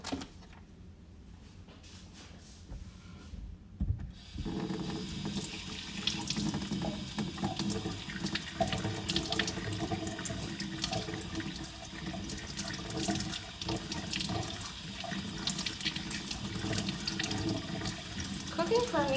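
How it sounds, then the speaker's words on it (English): Tap water runs steadily into a kitchen sink as tomatoes are rinsed under it during salad preparation, a continuous splashing wash that starts after a few quiet seconds and carries on throughout. "get some tomatoes for a little rinse"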